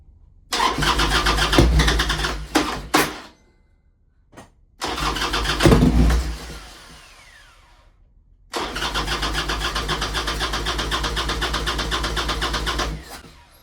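An old Harley-Davidson Sportster that has sat for three years, with a suspected carburetor fuel problem, cranks loudly in three long bursts separated by silence, the starter churning without the engine catching, no talking.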